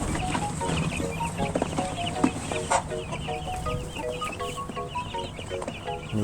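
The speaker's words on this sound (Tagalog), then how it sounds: "So ayan na nga, ilalagay ko na ito ang mga ating mga sisiw." Chicks peeping while being moved from an incubator: many high, rapid chirps overlap continuously at close range, with light handling noise underneath.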